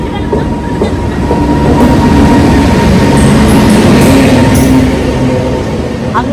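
Inside a moving passenger train, a steady loud rumble of carriage and wheels runs throughout, with faint rhythmic clicks over the rails and no clear talk.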